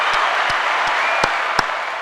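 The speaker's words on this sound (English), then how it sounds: "let me see my applause is working" Canned applause effect played during a podcast episode, a continuous crowd-clapping wash at even level, punctuated by a few sharp individual thumps or taps.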